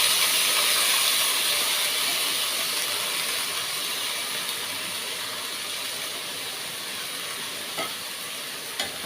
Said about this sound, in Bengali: ভালো করে চালটা নেড়ে নিচ্ছি।